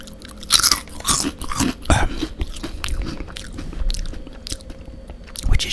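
Close crunching and chewing of potato crisps from a packet, with irregular crisp bites and mouth sounds, no talking.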